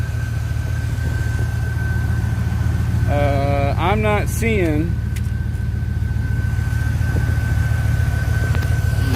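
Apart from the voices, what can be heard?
car engine running while warming up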